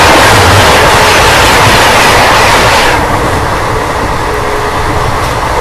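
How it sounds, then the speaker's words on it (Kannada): The Gatimaan Express rushes past close by, a loud steady roar of rolling wheels and rushing air that eases slightly partway through, with no voices. "India's fastest train Gatimaan express ಈಗ ಕ್ರಾಸ್ ಮಾಡತ್ತೈತ್ರಿ"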